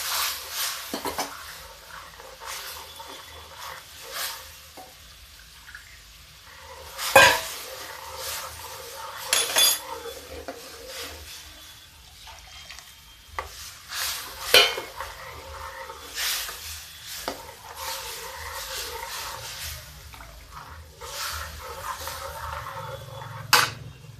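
A spoon stirs curd and gram flour kadhi for chana dal kadhi in a pan, making intermittent scraping clinks against the metal over a soft sizzle, with no voice heard.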